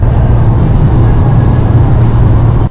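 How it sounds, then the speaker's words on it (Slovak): Loud steady drone from inside a car cruising at high revs on the highway, a constant low engine and road roar with airplane-cabin character, unbroken until it cuts off at the end. "Tým pádom auto hučí a znie to ako v lietadle."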